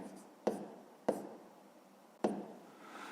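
Three sharp taps of a pen on paper, spaced unevenly, with faint scratching between them, during a fifth-grade maths exercise written out by hand; quiet and close, no voices.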